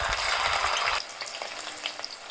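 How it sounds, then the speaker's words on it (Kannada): Paneer cubes frying in refined oil in a pan give a loud, close, steady sizzle with crackling pops, a low stirring scrape at first that drops away after a second. "ಇದಕ್ಕೆ ನಾವು ಪನ್ನೀರನ್ನು ಹಾಕೊಂಡು ಫ್ರೈ ಮಾಡ್ಕೊಳ್ಳೋಣ"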